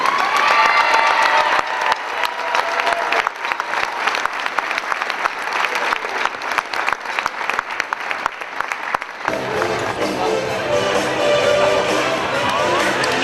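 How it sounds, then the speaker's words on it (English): Gym crowd at a boys' varsity basketball game applauding high school seniors, full sustained clapping with some cheering, easing slightly midway before shifting into a brighter, noisier crowd roar near the end. "Please join in a round of applause for the Hornell High School seniors."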